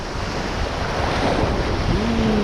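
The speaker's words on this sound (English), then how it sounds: "Ooh, waves." Ocean surf at a fishing spot on the Guam shoreline, waves washing and breaking nearby with a steady roar and gusts of wind buffeting the microphone.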